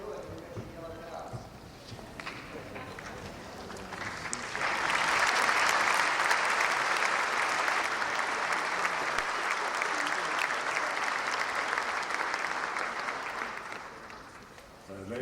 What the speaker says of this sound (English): So we can applaud you and we can yell it out.